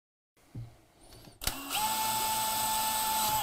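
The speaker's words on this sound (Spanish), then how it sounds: "Esta es la razón por la cual la perforación previa es tan importante" A power drill pre-drilling a screw hole during a kitchen renovation: a brief mechanical click, then the motor spins up into a steady, loud, high whine that runs continuously, close by, with no talking.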